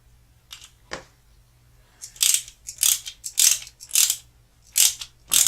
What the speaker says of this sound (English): tighten it down till the head bottoms out, and then just a little bit, because this is plastic